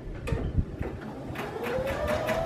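A sewing machine runs a back stitch on a denim jacket, giving a close, steady mechanical whir with rapid rhythmic needle clatter and a rising tone near the end.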